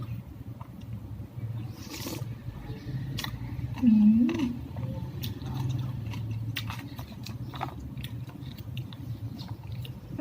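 Someone eating spicy mango salad with crispy fish, with close crunching and chewing scattered between bursts of nearby talk.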